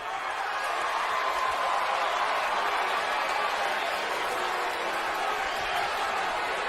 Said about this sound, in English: Those of you who are cheering me right now